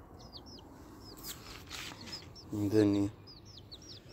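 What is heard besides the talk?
chickens clucking on a rooftop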